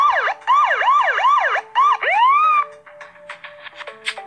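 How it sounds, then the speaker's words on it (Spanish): An electronic police siren from a video game wails in rapid repeated sweeps, then shifts to a slower rising wail before fading into quieter beeps and tones. "Ahí va la patrulla."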